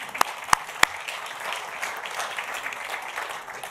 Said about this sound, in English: A round of applause, please, for Louise.